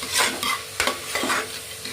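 Tomatoes and onions sautéing in a pan sizzle steadily while a spoon stirs them in several quick scraping strokes, close up.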